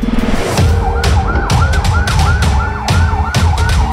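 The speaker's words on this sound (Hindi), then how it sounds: "अस्पताल में तीसरी एम्बुलेंस आती है" A loud, close ambulance siren warbles in quick repeated rising and falling cycles as the vehicle arrives at a hospital.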